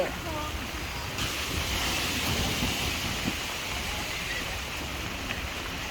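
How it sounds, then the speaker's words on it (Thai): Steady rainfall at a garden canal cafe in Pattaya, a dense, even hiss throughout, with a faint voice briefly heard at the start. "ดูทุกคนดู บรรยากาศฝนตกครับ"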